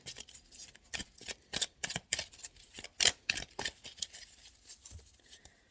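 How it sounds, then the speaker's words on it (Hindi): Tarot cards being shuffled by hand in a quiet room, a run of crisp riffling snaps and soft flicking bursts that come close and clear, with no talking over them. "अभी मैं इसको सही करती हूँ और थोड़ा सा कार्डों को मैं शफल कर लूँ।"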